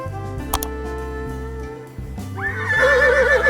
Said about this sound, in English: And the horse says,